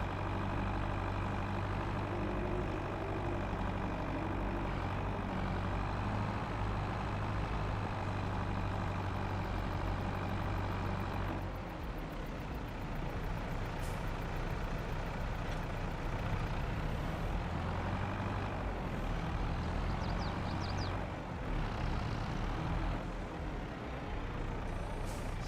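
Vehicle engine in the farming game Farming Simulator 22 drones at a low, steady idle, a constant heavy hum that shifts slightly in tone midway, with no one talking.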